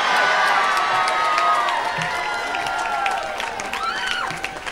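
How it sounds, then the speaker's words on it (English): A large crowd at a political victory speech breaks into loud, sustained applause and cheering, with whoops and shouts rising over steady clapping that fades only slightly toward the end. "That may be the loudest applause of the night"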